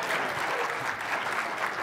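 Audience at a provincial government action plan presentation in Newfoundland and Labrador breaks into brief, steady applause, a dense even clatter of many hands throughout.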